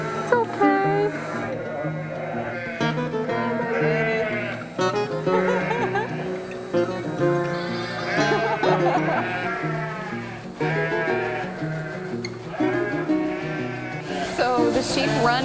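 Sheep on a Tuscan milking farm bleat repeatedly and close by, overlapping cries in an uneven chorus, while people talk over the flock.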